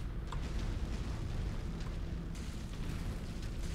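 Artillery explosions in the video game MechWarrior 5 rumble in a dense, continuous rolling boom with scattered sharper bursts, moderately quiet and with no talking.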